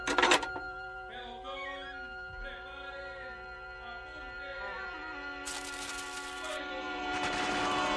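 A radio-drama execution by gunfire: a burst of sharp shots opens the scene, then tonal music plays, and later heavy noisy bursts of gunfire break in over the music.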